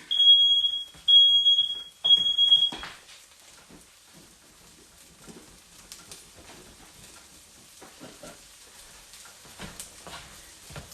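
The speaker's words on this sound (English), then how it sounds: "And it sets off the fire alarm" A smoke alarm set off by cooking in a hot cast iron pan gives three loud, shrill piercing beeps in quick succession, then stops, leaving quiet kitchen room noise with light clatter.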